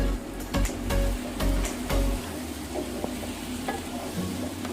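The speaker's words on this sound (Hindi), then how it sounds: "4 मिनट हो गए हैं मुझे कद्दू शरीफ डाल के इसको भूनते हुए।" Mutton and pumpkin sizzle and fry in a pan as a spoon scrapes and stirs with several heavy strokes early on, then the frying settles into a steady sizzle, close up with no talking.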